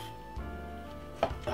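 A knife slices an egg salad sandwich in half on a board, giving a short soft cut and a quick firm knock as the blade hits the board, with no talking.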